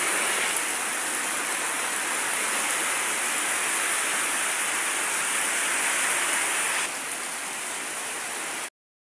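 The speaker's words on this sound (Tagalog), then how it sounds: "sobrang lakas ng hangin at ulan" Heavy rain driven by strong wind pours down in a loud, dense, continuous roar that stays close and steady for several seconds before cutting off abruptly. There is no talking.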